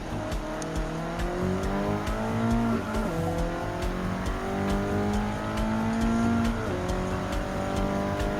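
Racing car engines in Gran Turismo 7 on a wet track, with several cars droning and shifting pitch as they rev up and ease off through corners, a steady close roar with no voices.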